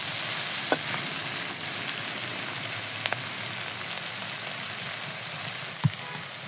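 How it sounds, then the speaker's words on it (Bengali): Chopped onions fry with salt in hot oil for a fish curry, giving a steady, soft sizzle with a few sharp clicks of stirring scattered through. "লবণটা দিলে পেঁয়াজের ভিতরে পেঁয়াজটা নরম হয়ে তাড়াতাড়ি ভাজা হয়ে যায়।"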